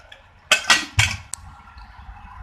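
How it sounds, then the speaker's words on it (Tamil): A stovetop pressure cooker lid is closed over chicken gravy, giving a few close, loud metallic clanks and a sharp clink in quick succession, then a quiet kitchen. "இப்போ இதை குக்கரை மூடி நம்ம வேக விட போறோம்."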